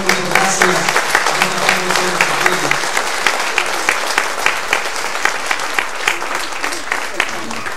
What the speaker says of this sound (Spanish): todos ustedes un fuerte aplauso porque las alfombras se han realizado